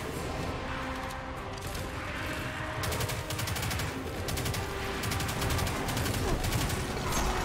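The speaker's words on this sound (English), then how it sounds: "I'm shooting the crystal." Rapid automatic gunfire in Destiny aimed at a crystal, a dense continuous rattle of shots that grows louder partway through, set against steady game background noise.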